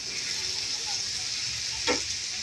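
Paneer bhurji frying in a pan at home: a continuous, close, bright sizzle with one quick stirring scrape near the end.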